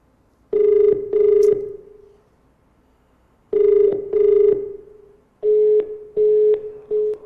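A telephone ringing on a TV game show call-in segment, with three close, loud double-burst rings evenly spaced a few seconds apart and silence between them.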